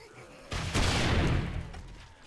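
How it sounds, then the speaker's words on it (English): A rocket launcher fires in the survival game 7 Days to Die, a sudden loud blast that rolls into a dense, roaring rumble and fades over about a second and a half. "Reload your rocket launcher first."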